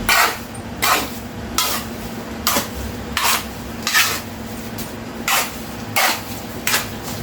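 Cement and sand mixed by hand, a shovel scraping and rasping through the gritty mix in regular strokes about every three-quarters of a second, moderately close with steady background hum.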